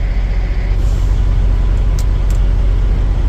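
Idling trucks queued outside a food distribution warehouse waiting to back into loading doors, a loud steady diesel rumble close by, with a couple of short hissing air-brake bursts.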